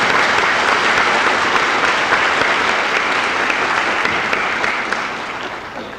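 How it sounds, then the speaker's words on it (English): Sustained, dense applause from a large crowd at an adult education graduation ceremony, loud and even throughout before tapering off at the end. "I think that alone deserves another round of applause."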